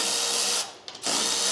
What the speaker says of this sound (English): so we had to drill these out.